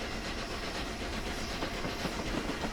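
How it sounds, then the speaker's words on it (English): Flying Scotsman steam locomotive having cold water injected into its boiler, giving a steady, loud hiss of escaping steam with rushing, clattering texture, continuous throughout and without talk. "Nice cold water going in. Lots of steam coming out."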